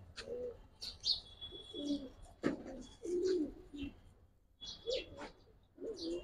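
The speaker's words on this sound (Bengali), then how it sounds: "এগুলো অনেক ছটফটা কবুতর" Restless Giribaz and coloring pigeons coo in a handful of short, low throaty phrases, with a few sharp higher chirps and faint rustling between calls, fairly quiet and close.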